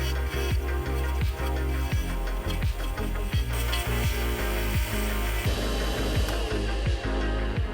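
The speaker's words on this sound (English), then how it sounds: "Try and cut the wood to the metal bushings without touching them too much." A wooden pen blank turning on a wood lathe over metal bushings while a cutting tool shaves it, giving a steady whirring grind broken by rapid, regular chattering clicks close up, with no talk.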